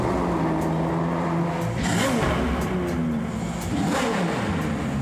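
A supercar's engine revs in a parked setting with a loud, throaty mechanical roar that rises and falls in repeated surges, staying close and continuous throughout.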